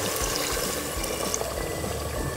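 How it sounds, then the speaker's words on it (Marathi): Hot water pours steadily into dal mundi, a thin lentil dish, with a continuous splashing, gurgling rush, close up and alone. "आता आपलं पाणी गरम झालेलं आहे मस्त, तर ते आपण आता त्याच्यामध्ये टाकणार आहे बघा"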